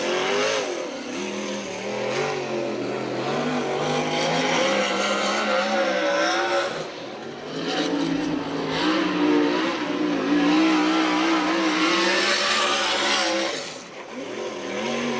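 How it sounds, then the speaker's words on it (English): A USAC/CRA sprint car engine howls through a qualifying run at Santa Maria, California, loud and close: a continuous high-revving roar that rises and falls as the car laps, with brief throttle lifts and no talk over it. "Our last sprint qualifier, number 38, Corey Cruzman of Ventura"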